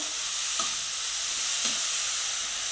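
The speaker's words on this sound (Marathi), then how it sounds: "आता त्यामध्ये घालूया खिसलेलं गाजर याला चांगलं परतून घेऊया" Grated carrot sautéed in ghee for carrot halwa, giving a steady, loud, close sizzle and hiss throughout, with a couple of soft stirring scrapes and no voices.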